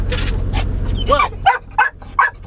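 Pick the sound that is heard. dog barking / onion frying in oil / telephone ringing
dog barking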